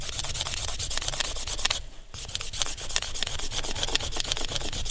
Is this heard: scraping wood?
yes